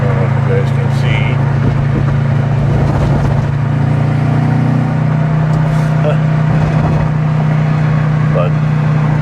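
Subaru car with a freshly assembled engine driving along, a steady droning engine hum heard from inside the cabin, continuous and fairly loud, with road noise and a little speech mixed in.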